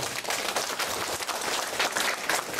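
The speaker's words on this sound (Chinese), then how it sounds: "咱大家再次用热烈掌声" Audience applause at a Taiwan Civil Government law-and-nation-building academy lecture: a dense, steady wash of many hands clapping that holds evenly for the whole stretch, with no voices above it.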